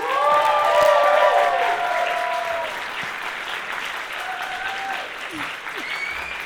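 Audience clapping to welcome a speaker to the stage, a steady round of applause that gradually fades, with some cheering or vocal shouts mixed in early on.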